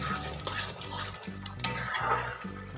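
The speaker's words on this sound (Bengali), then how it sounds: "মেথি এবং গরম মশলাটাকে কিন্তু মশলার সাথে ভালো করে আমি একবার মিশিয়ে নিচ্ছি।" Garam masala and kasuri methi being stirred into cooking spices in a pan, a spoon scraping and knocking against the metal in a regular rhythm, close and clear with a light sizzle beneath.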